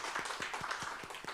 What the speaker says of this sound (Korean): 우리 박수로 축복합시다.